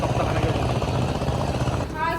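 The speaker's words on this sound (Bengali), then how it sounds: "পাওয়ার টিলার হচ্ছে" A power tiller engine runs in a farm field, a loud, continuous throbbing drone close by, with people talking over it.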